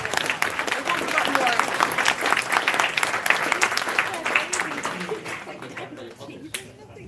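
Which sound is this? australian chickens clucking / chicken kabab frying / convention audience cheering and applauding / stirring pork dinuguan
convention audience cheering and applauding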